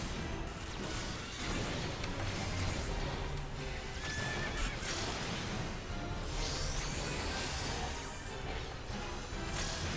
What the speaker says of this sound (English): Oh, look, an evil horse.